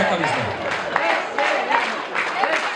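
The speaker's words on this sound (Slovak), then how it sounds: "Ďakujeme pekne za vaše potlesky, za vašu priazeň." Applause from an audience at an outdoor village-day folk concert in Borský Mikuláš, scattered clapping mixed with crowd noise and a voice speaking over it.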